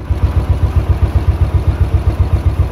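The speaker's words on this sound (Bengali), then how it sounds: "বাইক স্টার্ট দিয়ে দিয়েছি" A motorcycle idles after starting on a cloudy day in Manali before a ride toward Leh, a loud, close engine beating in a rapid, even rhythm.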